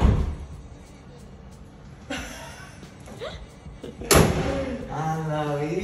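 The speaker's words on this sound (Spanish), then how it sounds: "sí, cierra la puerta." A car door on a modified Mitsubishi Lancer Evo shuts with one sharp slam amid quiet background rumble and a few faint knocks. Voices start talking just afterward.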